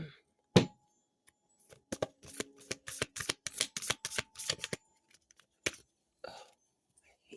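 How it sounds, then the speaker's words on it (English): A deck of cards being shuffled close by in a quiet room, several quick riffling bursts of crisp flutter and snapping, then a few softer shuffles after a pause. "I hate shuffling these."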